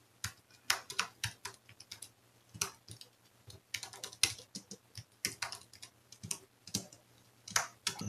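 Java code being typed on a computer keyboard: irregular bursts of crisp, close key clicks with short pauses between runs, fairly quiet over a faint steady hum, no talking.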